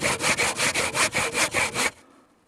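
A hand saw cutting a 10 centimeter block out of wood for decking, heard as about nine even, rhythmic back-and-forth strokes, close and loud, ending abruptly into near silence.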